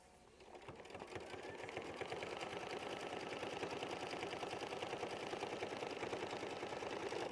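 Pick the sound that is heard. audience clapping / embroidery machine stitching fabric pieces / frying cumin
embroidery machine stitching fabric pieces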